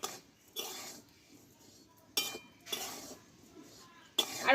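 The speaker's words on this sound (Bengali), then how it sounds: "এইভাবে খুন্তি দিয়ে আমি নাড়তে থাকবো নাহলে কিন্তু তলটা লেগে যেতে পারে" Metal spatula scraping and stirring mustard seeds in a hot pan while making homemade mustard oil, giving a few separate bursts of scratchy clinking with quiet gaps between them.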